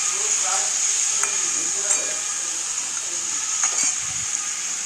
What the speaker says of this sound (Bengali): জিরে বাটা আছে সেজন্য একটু ভাজা ভাজা করে নেবো